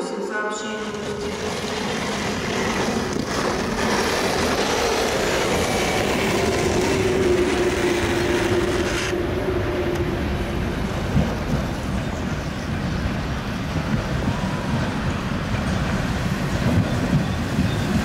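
An express train, number 88, rolls through a station with a steady heavy rumble and rhythmic wheel clatter that runs for the whole stretch, loud and close, with faint station announcements in the background.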